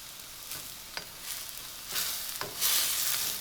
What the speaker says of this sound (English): So let this come to a really hot boil.